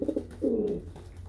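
Close-up cooing of young pigeons: a few short low hoots followed by a longer throaty coo, soft and near.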